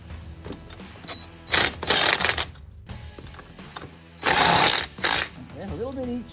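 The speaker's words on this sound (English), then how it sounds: "so let's try the impact drill." A pneumatic-style impact drill tightening 21mm wheel nuts on a Kubota BX23S tractor gives several loud rattling hammering bursts of a second or so each, separated by pauses with a person talking between them.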